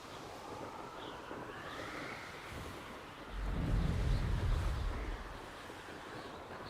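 Strong wind roars across a windswept area in Hogwarts Legacy, a steady rushing gust that swells louder and deeper in the middle before easing back.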